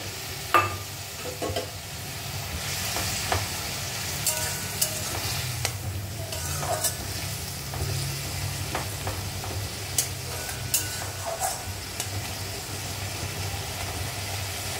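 Fried puti fish go into a pan and are stirred, a continuous low sizzle broken by scattered clinks and scrapes, close and steady, no talking.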